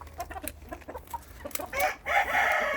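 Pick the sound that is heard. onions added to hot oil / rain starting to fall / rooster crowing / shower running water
rooster crowing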